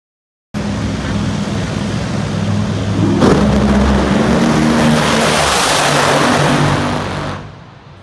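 Two NHRA drag race cars blast off the line together at a York Nationals test event, a loud sustained engine roar that swells midway and then fades as they reach the end of the strip.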